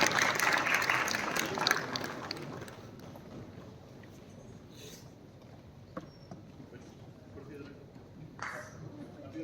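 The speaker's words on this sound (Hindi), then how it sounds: "let's welcome these talented students with your beautiful applause" Audience applause for talented students at a student honours ceremony, a dense clapping burst in the opening seconds that thins into lighter scattered claps under ambient hall noise and some talk.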